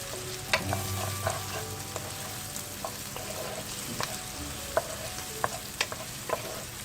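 Chopped onion sautéing with chicken in a pan, a soft steady sizzle with scattered light scrapes and taps as it is stirred, close and fairly quiet with no talking.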